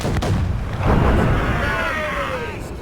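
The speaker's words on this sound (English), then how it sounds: "We should fire our mortars, Captain!" Ship mortars firing during a naval battle in Assassin's Creed Rogue, a heavy booming blast with a rumbling, rolling tail amid battle noise.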